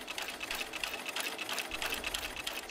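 Sewing machine stitching a clear vinyl pouch, running in a steady, continuous whir of rapid needle strokes close up for the whole stretch, with no talking.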